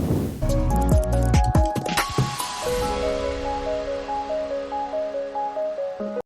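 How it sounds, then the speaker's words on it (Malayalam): Stuffed squid dropped into hot oil with masala, giving a burst of crackling, squishing sizzle at first that settles into a steady frying hiss, close and fairly loud. "കൂന്തൽ ഇട്ട് കൊടുക്കാം."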